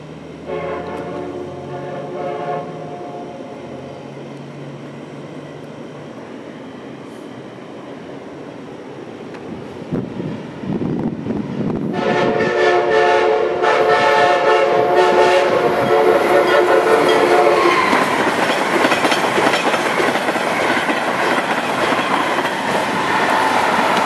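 A northbound train passes Perryville Station and sounds its horn. A low rumble builds before loud, repeated horn blasts ring out over rolling wheels and clatter close by.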